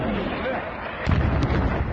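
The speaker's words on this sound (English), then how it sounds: "Air raid sirens and explosions shattered the peace today" Explosions during a Russian attack on Ukraine: a couple of heavy, muffled blasts thud over a continuous rumbling background, one after another about a third of a second apart.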